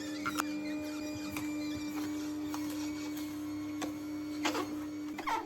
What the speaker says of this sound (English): Surprisingly, the machine had no difficulty juicing them.